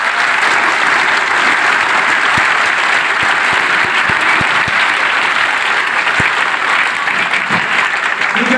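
An audience at a scholarship seminar claps loudly for their parents, a dense, close roar of applause with a few sharp standout claps, sustained without pause for over eight seconds.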